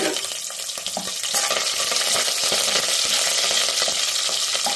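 Garlic cloves and curry leaves fry in hot oil for a Kanyakumari-style kattu soru, giving a dense, steady sizzle with crackling pops and a few stirring clinks, no voices.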